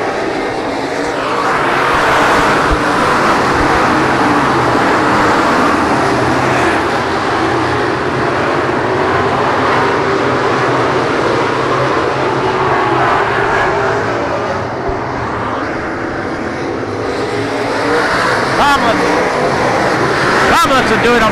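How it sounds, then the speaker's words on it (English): Outlaw modified race cars roar around Heart O' Texas Speedway in a dense, continuous engine drone. A track announcer talks over the racing noise throughout. "The 410 car of Justin McCoy out of Irving really looks strong up to this point"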